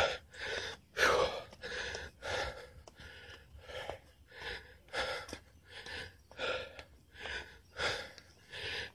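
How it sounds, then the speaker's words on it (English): Heavy, rhythmic breathing of a person resting after a hard workout climb up a steep slope, about a dozen loud, close gasping breaths in steady succession with no talk. "I'm breathing kind of heavy right now because it's kind of tough."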